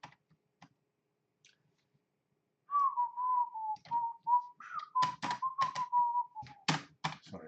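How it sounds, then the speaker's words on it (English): A person whistles a wavering, sustained tune at a computer keyboard while writing PHP code. Quick typing clicks come first, then run under the whistling, which grows busier toward the end. "sorry, I shouldn't whistle, that's very rude."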